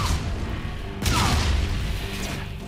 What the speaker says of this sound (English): Can you stop shooting me, please?